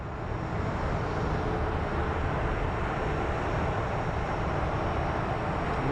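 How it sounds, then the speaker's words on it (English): Prime Air Boeing 767 taxiing at Phoenix Sky Harbor airport, a steady broadband jet engine roar with low rumble holding at constant loudness throughout, distant and unbroken. "We have what looks like a Prime Air Boeing 767 that is taxiing"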